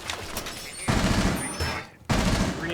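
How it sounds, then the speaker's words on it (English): Two impact grenades blasting through a wall between bomb sites in Rainbow Six Siege, heard as dense, loud, crackling bursts that cut off and restart sharply, with faint talk underneath. "throwing both of his impact grenades into the wall between the B bomb site and the A bomb site"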